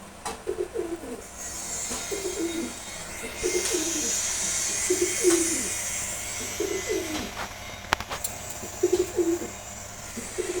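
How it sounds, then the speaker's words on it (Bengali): Bathing pigeons coo in a steady, repeating rhythm of low throaty calls close by, over a constant hiss, with no talking. "দেখেন কবুতরগুলো এখন রিল্যাক্সে আছে"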